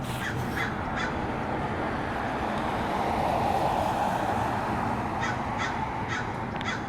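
Several crows caw outdoors on a morning street, in short repeated bursts at a moderate distance over a steady wash of traffic and ambient noise.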